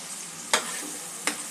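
Onion frying in a pan with a steady close sizzle, broken by two sharp scrapes of a spatula stirring.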